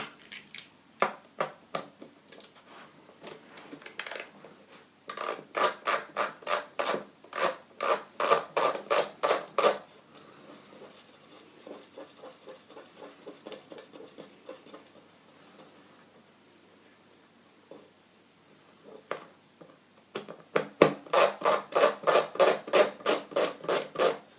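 Screws being backed out of a MOTO MidiExpress XT MIDI interface with a hand screwdriver: bursts of quick, rhythmic rasping turns, loud and close, separated by a quieter pause, with no talking.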